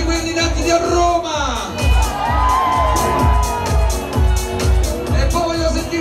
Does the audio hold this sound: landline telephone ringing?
no